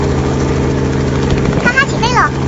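A cartoon helicopter lifts off, its steady engine and rotor drone running throughout while a character's high-pitched, warbling voice cuts in near the end.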